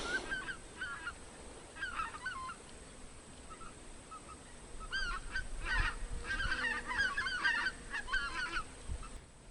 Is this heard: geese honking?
yes